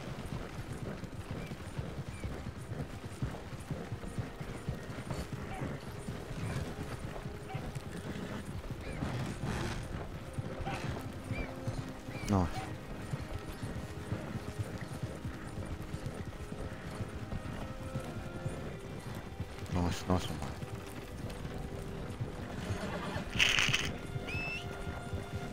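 Horse hooves clip-clopping with occasional whinnies in the video game Red Dead Online, a busy rhythmic patter over a continuous game background, with a brief bright metallic ring near the end.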